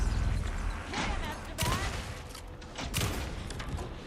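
Bursts of gunfire with booming impacts, dense and chaotic, mixed with voices and other action noise throughout.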